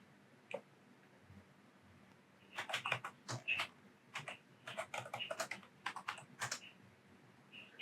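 A computer keyboard clicks under quick bursts of typing as a password is entered, with separate keystrokes in a quiet room and no talking.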